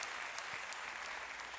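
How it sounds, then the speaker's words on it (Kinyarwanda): A church congregation clapping hands during a sermon, a dense, even patter of many hands heard faintly from a distance, with no voices over it. "Kome amashyi."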